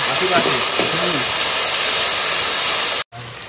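Water hits hot spiced oil for a hilsa biryani gravy, setting off a loud, steady hiss of steam and sizzle close up that cuts off abruptly near the end, with faint voices underneath.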